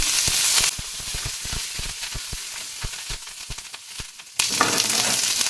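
Loud crackling sizzle of tempering spices dropped into hot oil for chicken gravy, bursting in with dense popping that settles, then a sharp hiss returns near the end.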